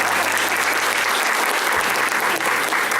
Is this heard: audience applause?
yes